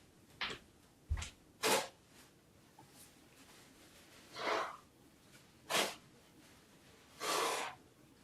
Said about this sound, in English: blow my nose quickly